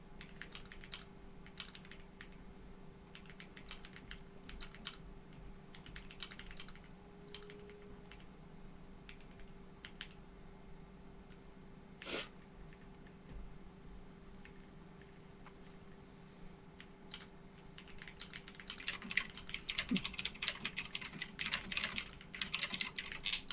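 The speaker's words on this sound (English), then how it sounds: "One of you has a very loud typewriter. It's me. It's my keyboard." Loud, clicky computer keyboard typed on steadily during a tabletop role-playing game session, with rapid irregular key clacks and a brief burst of heavier typing near the end over a faint room hum.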